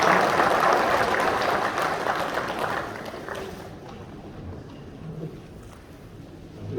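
An audience at a Presbyterian presbytery meeting applauds with a dense, fairly loud wash of clapping that thins out and fades to quieter room noise after a few seconds.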